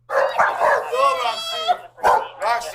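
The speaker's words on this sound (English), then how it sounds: "the couple's dog gets overexcited and bites Felipe" Roxy, an overexcited pet dog, lets out a quick run of close, loud, high-pitched barks and whiny yips with short gaps between them, amid raised human voices.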